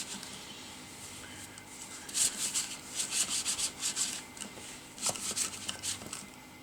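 Hands rub a silicone baby doll to clear lint left from the stuffing, giving soft, close, brushy strokes that come in uneven bursts over a quiet background.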